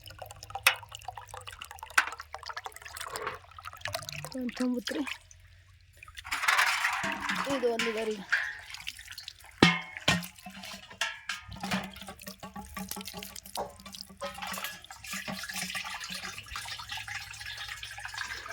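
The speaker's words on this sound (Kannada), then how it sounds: "ನಾನೇ ನೀರು ತುಂಬ್ಕೊಲತ್ತೀನಿ ರೀ" Water splashes and drips from a tap as a container fills, intermittent and close, while people talk over it.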